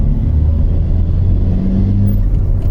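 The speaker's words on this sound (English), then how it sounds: "Bit of gearbox whine" A cheap used Honda car drives along with its engine humming steadily and a faint gearbox whine riding on top, loud and close, with no voices.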